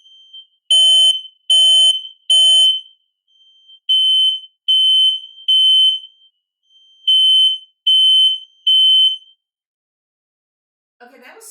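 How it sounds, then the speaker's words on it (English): Smoke alarm chirping with a low battery, sounding three groups of three sharp, loud electronic beeps in an even rhythm, nearby, with no talk. "Our fire alarm has been beeping, and so obviously it's time to change the batteries."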